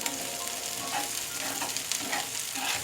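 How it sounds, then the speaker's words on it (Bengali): Shrimp rubbed with salt and turmeric fries in a pan with garlic, onion and chillies for a radish and eggplant dish, giving a steady, close, even sizzle throughout with no voices. "এখন আমি চিংড়ি মাছটাকে সামান্য লবণ হলুদ মেখে দিয়েছিলাম, এটা দিয়ে আরও কিছুটা সময় ভেজে নেব।"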